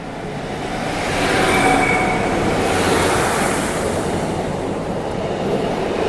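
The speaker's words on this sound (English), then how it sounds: "I've got a train here to my right" A train rumbles past beside the railway track on a sunny day, loud and near, with a broad roar that builds, holds steady and carries a faint wheel squeal, and no talking.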